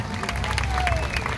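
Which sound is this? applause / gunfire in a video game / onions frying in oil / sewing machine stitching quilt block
applause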